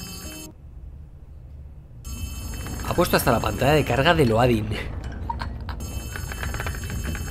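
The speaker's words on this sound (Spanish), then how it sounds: "Venga, contesta el teléfono." In the video game Poppy Playtime Chapter 4, a telephone rings with a warbling trill, heard as repeated bursts in the middle, while someone speaks over it amid a low game hum.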